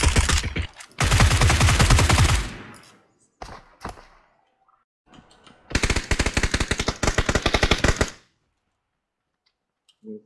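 Automatic gunfire in the PUBG battle royale game comes in several loud, rapid bursts of shots with gaps of near silence between them.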